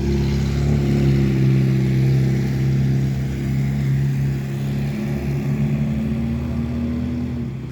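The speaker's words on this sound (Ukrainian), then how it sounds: "О, той ще зразу почав газувати." A white vehicle on a snowy winter hillside revs its engine, a loud steady droning hum with sustained tonal pitch that swells and eases slightly over several seconds, with no talking.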